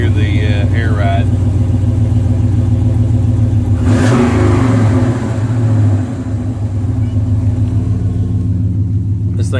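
A vehicle engine with air ride idles steadily nearby, a loud continuous low rumble with a brief rise midway, while someone talks over it.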